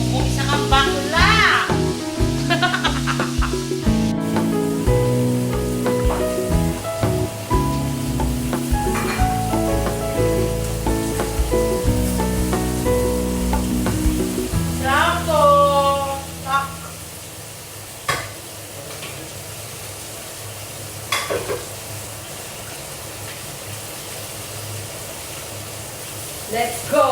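Galunggong fish sizzling and frying in a pan during a lunch routine, with stirring and scraping over the steady hiss, close and fairly loud at first and then quieter.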